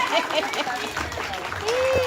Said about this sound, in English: let's give a big round of applause to Gabby